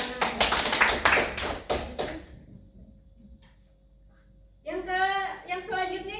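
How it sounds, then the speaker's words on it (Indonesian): A group of people clapping their hands together in a classroom setting, a short burst of dense applause that fades out, followed by a pause and then a voice speaking. "Tepuk tangan."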